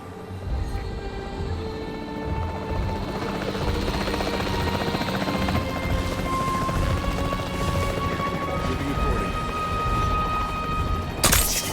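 Steady, loud rotor thump and turbine whine of a capture team helicopter in the video game Jurassic World Evolution 3, droning continuously with a sharp burst near the end.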